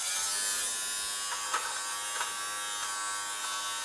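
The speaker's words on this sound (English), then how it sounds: "It's sort of making that razor noise." A small fabric shaver buzzes steadily like an electric razor as it removes bobbles from cloth, a close, thin whir with faint brief catches as it picks up fluff.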